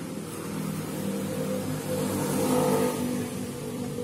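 A 15 kVA generator with its 1500 RPM dynamo runs steadily close by, a loud, constant engine drone with a low hum and slight swells in level throughout.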